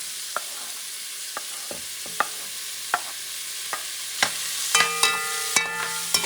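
Sausage frying in a pan and being stirred: a constant hiss of sizzling fat is punctuated by sharp, regular spatula knocks and scrapes against the pan, growing busier toward the end.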